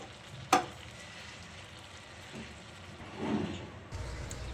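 Cauliflower sabzi being stirred in a pan, soft sizzling with a sharp clink near the start and a faint scraping stir later, fairly quiet throughout.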